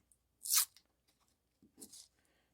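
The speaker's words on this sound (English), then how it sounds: "First thing I'm going to do is just go ahead and remove this tape that I stuck on there." Tape is peeled off a wooden ornament in two short, crisp ripping bursts, the first louder, heard close up in an otherwise quiet room.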